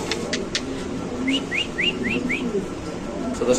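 White king pigeons at a pigeon market give a quick run of five rising chirpy calls, with a few sharper clicks before them and steady background noise behind.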